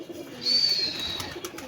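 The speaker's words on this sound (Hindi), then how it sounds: "वो कबूतर कुछ ऊपर निकल गए हैं" Pigeons coo softly among faint background noise, with a thin high whistling tone drifting over them; no one speaks.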